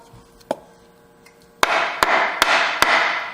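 Four sharp metallic taps on a pocket knife, struck to settle its lock bar, evenly spaced and close, each leaving a bright ringing wash; a fainter tap comes earlier over a quiet room.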